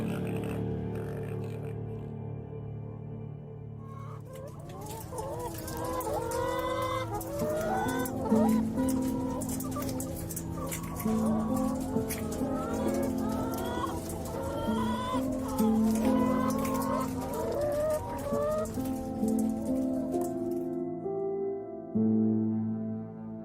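Egg-laying hens cluck and call in a chorus, with many overlapping, repeated clucks and squawks, fairly close and continuous, rising and falling over steady background hum.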